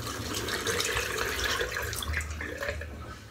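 Water flicked and splashed through a safety razor head while rinsing it, a close, continuous spattering and dripping over a sink with no talk.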